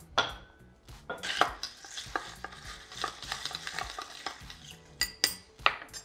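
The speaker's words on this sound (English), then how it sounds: "Give it a light stir." A spoon gently stirs a rosé applejack cocktail over crushed ice, with soft, quiet clinks and swishes of ice against the glass, some sharper taps in an uneven rhythm.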